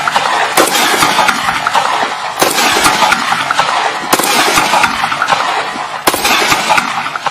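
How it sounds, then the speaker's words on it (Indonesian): Loud gunfire from a military firearm: four sharp, violent bursts at steady intervals, each blast decaying into a dense, noisy tail that nearly fills the gaps before the next shot. "Tembakan."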